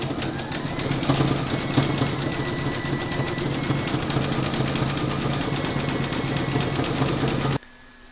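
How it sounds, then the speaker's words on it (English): A sewing machine stitches an embroidery detail for a bag, running in a steady, close, mechanical whir with a fast rhythmic rattle before stopping abruptly near the end. "load whichever colour thread you want into your machine for that, and then stitch colour number 9"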